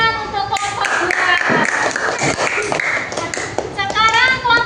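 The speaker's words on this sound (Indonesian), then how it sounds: "Tepuk tangan untuk kelompok 2" A classroom of students gives a round of hand-clapping for a presenting group, the claps brisk and close, mingled with children's voices and chatter throughout.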